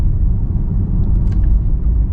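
A 2026 Porsche Taycan 4 electric car gives off a steady, low rumble of cabin and road noise that stays fairly loud and unchanging, with no one speaking.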